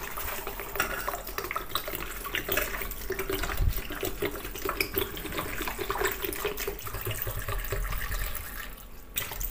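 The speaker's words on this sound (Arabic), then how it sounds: "احط ميه يا دوبك تغطي الجزر" Water runs from a tap in a steady, splashing stream into a pot of carrots, a close, continuous rush with small gurgles as it fills.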